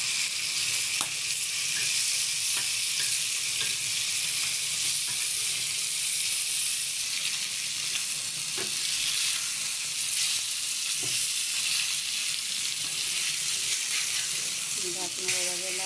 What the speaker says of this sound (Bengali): মতো করে কাতল মাছ ভেজে নিচ্ছি